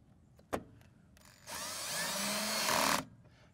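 A power drill whirs briefly, then runs in a longer, rising burst as it drives a #6 x 3/8 inch self-drilling screw into an LED strip holder, close up, with a few clicks before.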